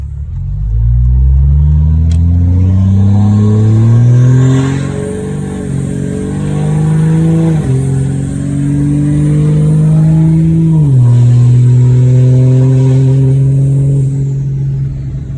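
A stock-fuel 6.7 Cummins diesel truck with an S472 turbo accelerates hard, its loud, close engine note climbing steadily and dropping briefly at two gear shifts before pulling on strongly.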